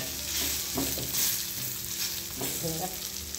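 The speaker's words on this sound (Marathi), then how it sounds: "मसाला असा छान भाजल्याच्यानंतर छान वास येतो" Spice masala dry-roasting in a pan gives a steady, close sizzle, broken by a few soft scrapes of stirring, with no voices over it.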